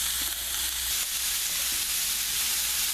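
Vegetables and herbs sizzle and fry in a stew pot while being stirred, a steady close hiss with faint scraping throughout, no talking.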